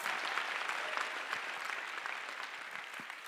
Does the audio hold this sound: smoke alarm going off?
no